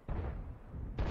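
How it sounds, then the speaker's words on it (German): Two deep, booming tank cannon shots in World of Tanks, a heavy Objekt 261 artillery piece firing, each a loud low rumbling blast with one following the other about a second later. "Und jetzt geht der Schuss raus"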